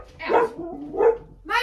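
Several sharp dog barks, close and loud, come in quick succession in a backyard as the dog is let out, with a brief pause between the barks.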